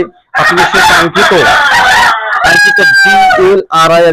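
Hilly breed hens and a rooster call loudly at close range: harsh, drawn-out crowing and clucking in several overlapping bursts, with brief gaps.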